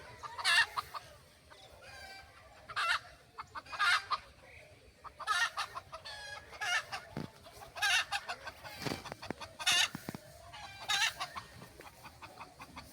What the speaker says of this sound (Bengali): মুরগি ডাকতেছে এখানে।